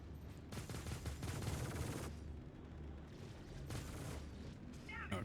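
Size 4 Gatling gun in Star Citizen firing in sustained rattling bursts, two long strings of rapid fire with a short break between them, steady and moderately loud.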